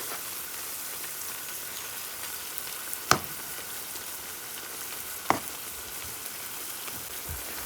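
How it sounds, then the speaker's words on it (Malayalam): Grated carrot fries in hot oil for Kerala carrot pori, giving a continuous bright sizzle. Two sharp taps of a utensil stand out against the steady hiss. "ഇതിപ്പോൾ നന്നായിട്ട് ഫ്രൈ ആയിട്ട് വരുന്നുണ്ട്"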